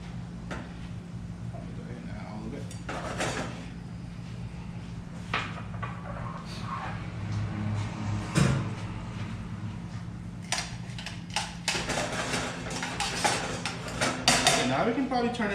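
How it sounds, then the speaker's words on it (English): Peas tipped into a simmering pan for carbonara in a kitchen, with clinks of pots, utensils and dishes scattered across the span, a low steady hum underneath, and a person speaking intermittently. "we're gonna add our peas"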